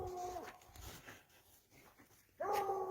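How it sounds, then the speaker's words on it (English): A dog outdoors gives short high whimpering yips and barks, one burst at the start and another near the end, faint and somewhat distant with quiet ambience between. "Guess that dog going crazy, didn't he?"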